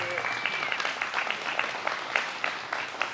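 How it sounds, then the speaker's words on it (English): An audience at a 2024 awards banquet claps for the cook, a steady patter of many hands with sharper individual claps standing out, fairly close and moderately loud, with a voice faintly underneath. "Give him a round of applause."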